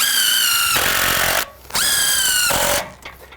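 Power drill whirring in two long, loud bursts as it drives screws into shed roof sheathing, with a short pause between runs and the motor winding down at the end, no talking.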